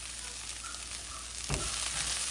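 Finely chopped onions and green chilies fry in oil with a steady, soft, crackling sizzle, swelling a little with a stir partway through; no one talks.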